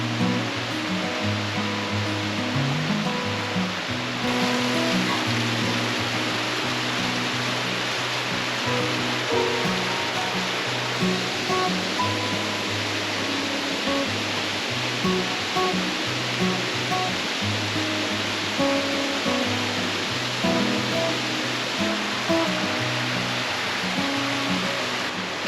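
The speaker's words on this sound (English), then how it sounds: "it's probably one of the most beautiful waterfalls I've ever seen" Covell Creek Falls in the Gifford Pinchot National Forest roars as a steady, dense wash of falling water, loud and unbroken for the whole stretch with no voices.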